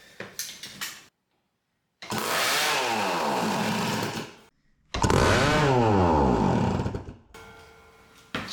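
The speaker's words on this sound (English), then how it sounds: "that's probably bad to not have any kind of throttle restriction on it, but that fired up" A rebuilt KTM MX250 two-stroke motorcycle engine, running without throttle restriction, screams through two long, loud revving bursts that climb and fall in pitch, with short sputtering runs and silent gaps between them.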